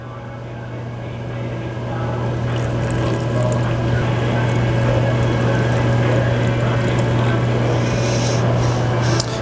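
Windshield washer fluid pours steadily into a car's reservoir during a vehicle inspection, a continuous liquid gurgle over a low engine hum, growing slightly louder as it fills.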